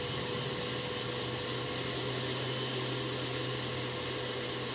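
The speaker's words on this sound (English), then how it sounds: "the blender is running smoothly" A blender whirs steadily while blending a banana smoothie, a loud, even motor drone with a low hum that holds unchanged throughout.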